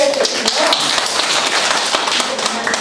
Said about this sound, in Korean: 우리 두 분 선생님한테 박수 쳐주시고요.